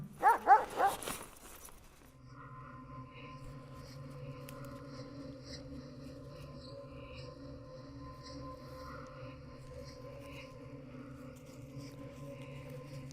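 A camping dog barks outside at night, several sharp loud barks at the start, then a steady droning hum with a faint tonal whine continuing underneath.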